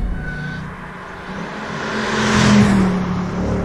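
A 615 hp RennTech Stage 6 Mercedes SL55 accelerates, its engine a steady, close rumble that swells louder toward the end of the pull, with no talk heard.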